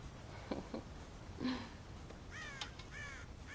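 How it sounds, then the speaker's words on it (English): Crows caw at a farm silo in the video game Red Dead Redemption: several harsh calls, some single and some in quick pairs, over a quiet, faintly noisy background. "God damn crows!"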